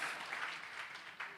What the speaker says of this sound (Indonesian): Jangan ragu-ragu, tepuk tangannya saudara-saudara